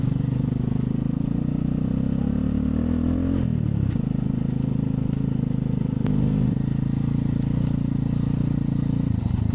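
A motorcycle rides off-road on sand, its engine droning steadily with a dip and recovery in revs partway through, alongside light clatter and scraping; no one speaks.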